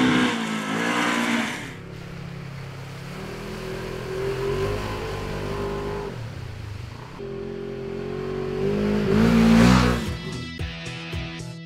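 A Polaris RZR side-by-side's 999cc twin-cylinder engine of over 100 horsepower revs repeatedly, rising and falling in pitch, with a loud surge near the end and then quick throttle blips.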